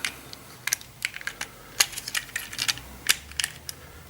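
Small plastic parts of a Sentinel Prime transforming robot toy click and slide together in a quiet room, a series of sharp, light taps and snaps at irregular intervals, close and fairly faint.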